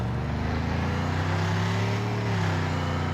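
Engine hum of cars racing on a track in the mobile game Car Parking Multiplayer 2, a steady droning motor tone throughout with slight pitch shifts, no voices.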